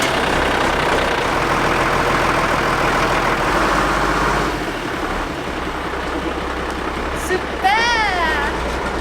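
Fire truck engine idling steadily with a heavy low rumble, close and loud throughout, with a brief whistling or squealing sweep near the end; people talk over it.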